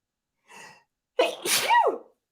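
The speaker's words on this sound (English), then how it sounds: "I'm gonna sneeze." A single person's sneeze, preceded by a short sharp intake of breath and then a loud, close burst trailing off into a brief vocal tail, with no talk during it.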